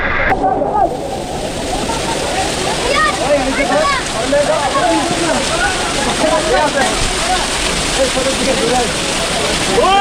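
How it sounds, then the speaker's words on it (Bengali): Continuous loud rush of a waterfall at Jaflong, Sylhet, Bangladesh, splashing onto rocks, a dense steady roar with voices faintly underneath. "ঝর্ণা থেকে যখন পানিগুলা বেয়ে নিচে পড়ে"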